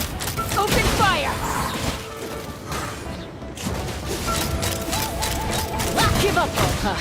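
A volley of gunfire breaks out in a Genshin Impact quest scene in Natlan, with rapid overlapping shots, crashes and mechanical clatter that stay loud and dense throughout, with voices shouting over the barrage.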